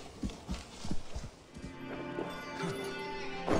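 Horse hooves clip-clop in the video game Assassin's Creed Valhalla on PS5, a rapid run of close, sharp hoof strikes followed by a neigh and a sustained tonal drone of game sound.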